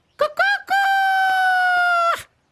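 A rooster crows once: a couple of short rising notes, then a long, loud, sustained call held for about a second and a half, close by.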